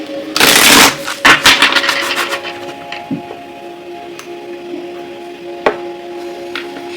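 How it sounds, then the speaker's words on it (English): Tarot cards are shuffled close up in a quick burst of riffling, followed by a few sparse taps and clicks as the deck settles, with no talking. "I'm going to shuffle these, so I'm going to take a minute to shuffle them"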